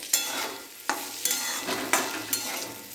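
Potatoes frying in a pan sizzle softly while a spatula stirs them, producing four or five sharp scraping strokes at a loose, regular pace over the crackle; no talking.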